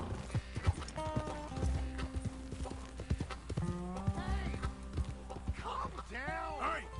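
Hooves clip-clop briskly in Red Dead Redemption 2 as a horse moves close by, with neighing and whinnying bursting in near the end over background game music.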